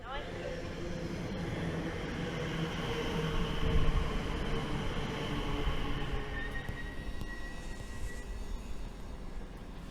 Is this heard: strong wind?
no